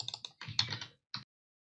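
Computer keyboard typing, close and clear: a quick burst of clicky keystrokes, a brief pause, then a single final key press.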